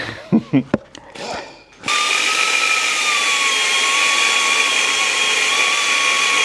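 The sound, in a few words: drilling FXR motorcycle frame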